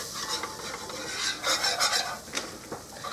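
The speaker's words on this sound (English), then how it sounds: "we're just going to mix this around because you want to cook a little bit of that flour taste out of it" A flour mixture is stirred in a hot cast iron skillet, a close, continuous rasping scrape with rhythmic strokes and a light sizzle underneath.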